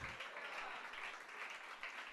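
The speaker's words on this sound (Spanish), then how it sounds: "Démosle un aplauso a Él, hermanos." A church congregation applauds during a sermon, giving a faint, dense wash of steady clapping heard from a distance.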